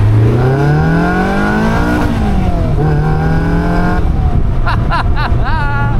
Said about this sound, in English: Let's give it a first gear pull.